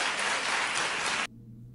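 Studio audience applause, dense and loud, cutting off abruptly near the end to leave a quiet hum.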